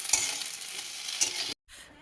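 Onions frying and being stirred in a pan during home cooking, a continuous hiss of sizzling with scraping stirs, close by, cutting out briefly near the end before resuming faintly.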